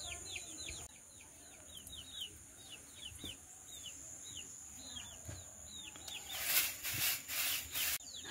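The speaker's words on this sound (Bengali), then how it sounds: "ওই যে সেই কচি কচি যে মুরগিগুলো আছে আমাদের বাড়িতে, মুরগির ছানা, ওগুলো কিন্তু কিচকিচ করছে বাইরে বেরোনোর জন্য।" Young chicks kept at a village home chirp over and over in quick, thin peeps, fairly close, before a burst of rustling and rubbing noise near the end.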